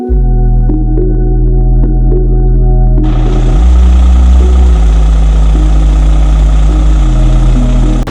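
Truck engine idling to run climate control, a loud close diesel rumble that holds steady, with the pitch rising and falling slightly as the engine load shifts, with no voices.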